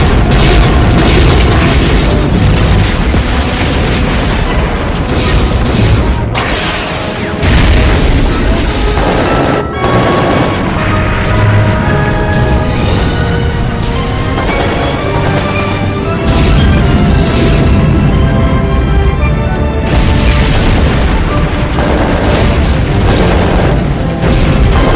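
Cannon fire in Space Pirate Captain Harlock booms loudly in repeated heavy rounds over a dense, roaring battle soundtrack that barely lets up.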